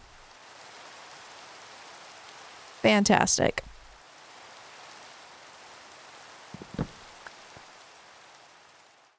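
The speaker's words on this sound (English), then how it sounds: "I still hear rain" Steady rain falling in a video game, a soft continuous hiss running under the whole stretch, with a brief burst of a voice in the middle and a few faint clicks later.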